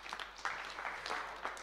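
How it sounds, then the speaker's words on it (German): An audience at a panel discussion at a media festival claps, a soft, steady patter of many hands, fairly faint and continuous, with no talking over it. "Ein Applaus, juhu."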